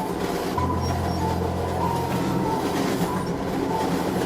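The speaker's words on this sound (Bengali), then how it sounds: "অভয় এখন একটা লাশের সাথে খালি ট্রেনে যাত্রা করছিল" A train runs steadily along the rails with a continuous rumble and a low hum under it, heard from inside a near-empty carriage and with no voices.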